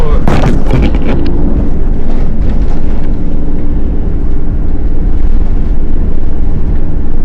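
A 59-horsepower truck accelerates hard on a road trip. Its loud, rough engine roar is close and fills the clip, strongest in the first second, then holds at a steady drone.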